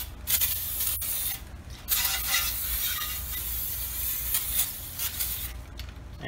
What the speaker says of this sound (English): I'm just gonna spray them down with some brake cleaner.